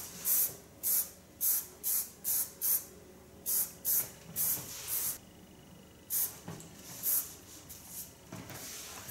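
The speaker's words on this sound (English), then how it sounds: "with a hairspray, I secure the hair so it stays the way it is" Hairspray can spraying onto a styled punk hairdo, a rapid series of short, close hissing bursts in a steady rhythm, then a few more spaced puffs, with no talk.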